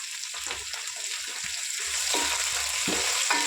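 Onions frying in a pan with mint and coriander leaves, giving a continuous bright sizzle with soft stirring scrapes and small pops, growing slightly louder toward the end.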